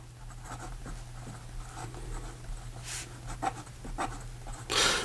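Fountain pen with a medium steel nib scratching across paper in short strokes, a soft close scratching over a steady low hum, with a louder rustle at the end.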